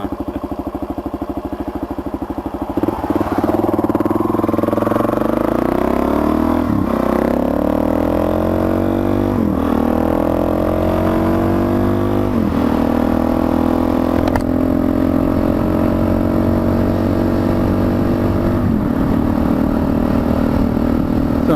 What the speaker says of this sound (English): Just fired my bike up